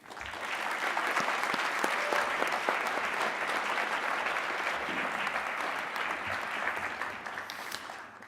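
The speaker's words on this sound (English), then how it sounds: "Please give Dr. Grossman a warm round of applause" A graduation convocation audience gives a warm round of applause for a school associate director, dense even clapping from a large crowd that swells quickly and holds steady, slightly distant in a big hall.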